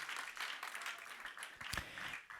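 A church congregation clapping hands during worship, a faint, steady rhythmic patter of many hands from a distance, continuous through the moment.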